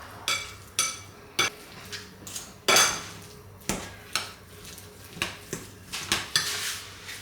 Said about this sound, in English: now let's just mix this up.